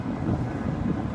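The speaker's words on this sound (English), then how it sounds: "I know there's a lot of wind, it's really windy" Steady, loud wind roaring and buffeting outdoors, a continuous low rumble with gusty texture throughout.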